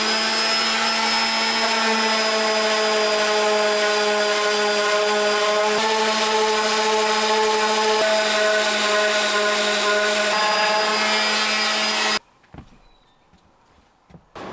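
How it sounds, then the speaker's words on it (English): A power sander works over a wooden Lego cabinet in a home workshop, a loud steady motor whine held for about twelve seconds before cutting off abruptly, leaving faint room noise and a few light knocks. "start sanding this thing"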